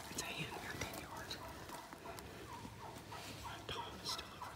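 A wild turkey hen calls out in the open during a hunt, with soft repeated yelps and clucks heard at a moderate distance, while people whisper quietly nearby.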